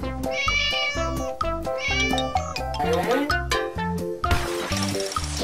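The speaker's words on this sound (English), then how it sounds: "Cat." A cartoon-style cat meow sounds within a busy, loud musical track in a guess-the-door escape room challenge game, layered over rhythmic chords and bright melodic tones.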